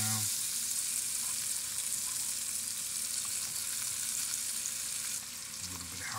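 Scrambled eggs frying in a pan, giving a loud, steady close-up sizzle that eases slightly toward the end.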